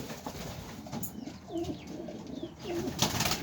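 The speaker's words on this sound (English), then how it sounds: "These are newborn pigeons." Pigeons at a nest with newborn chicks make soft repeated coos and small calls, close and fairly quiet over a light background rustle.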